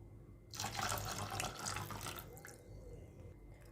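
Water pours steadily into a semolina and yogurt batter in a home kitchen, a soft rushing stream lasting a few seconds before trailing off, heard alone.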